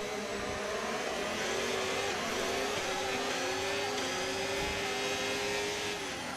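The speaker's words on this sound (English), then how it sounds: "Ferrari sounds so different to other cars." Ferrari Formula 1 car engine in an F1 racing video game with a realistic engine mod, a loud, continuous high-pitched whine that holds steady with slight pitch shifts, heard alone without talk.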